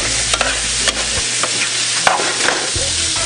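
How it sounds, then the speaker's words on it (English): Salt codfish is stirred as it cooks down in a dry pot for ackee and saltfish, a loud close sizzle punctuated by quick spoon scrapes and knocks, with no talking. "Codfish is cooking down."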